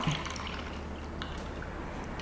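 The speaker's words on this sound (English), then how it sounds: "So pour the tea into the cup." Bubble tea with a little foam poured from a shaker into a cup, a soft, steady liquid rush that continues evenly and quietly with no talking.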